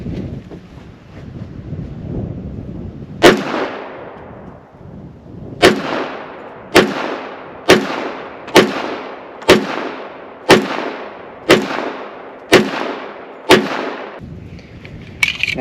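Gunshots fired at a target about 25 yards away on an outdoor range, with a pistol fitted with an ADE Artemis Pro red dot sight: one sharp crack, a pause, then a rapid regular string of about ten loud reports, each with a short ringing tail, alongside light wind noise.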